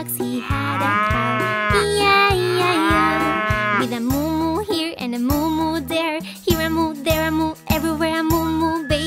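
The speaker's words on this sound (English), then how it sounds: "And in his box he had a cow" A cow's mooing rings out in a children's nursery rhyme, a long drawn-out animal call sounding loud and clear over a bouncy, steady musical backing with jingly accents.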